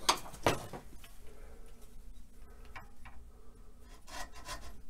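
A wooden drumstick held in a vise is worked with a hand tool, producing a few sharp knocks followed by soft, irregular rubbing and rasping strokes close by, with no talking.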